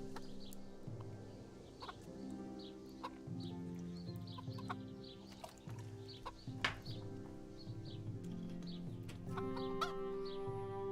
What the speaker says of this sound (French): Écoutez ces petites poules.